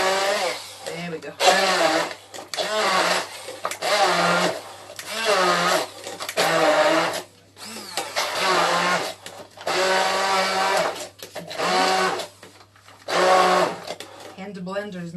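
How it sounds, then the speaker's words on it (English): A handheld blender pulses through juicy beetroot in a series of buzzing motor bursts, roughly a dozen on-off cycles with brief gaps, near and fairly loud. "Hand blender is not as easy."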